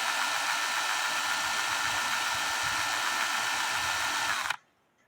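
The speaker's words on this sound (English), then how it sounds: "I'm letting the drill do all the work." A power drill whirs steadily at high speed, loud and close, working on an antique shield clock's wooden plate, then stops abruptly near the end, leaving near silence.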